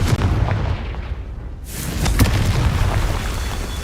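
A Confringo spell blast in the Hogwarts Legacy video game: loud, booming explosive bursts with a short dip in the middle, followed by a rumbling, crackling decay.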